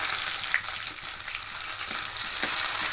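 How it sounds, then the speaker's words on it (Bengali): Chopped garlic and onion with dried red chilli frying in a pan, a steady close sizzle with small crackles and occasional stirring scrapes, no voices. "রসুন আর পেঁয়াজটা একটু লাল লাল করে ভেজে নেব"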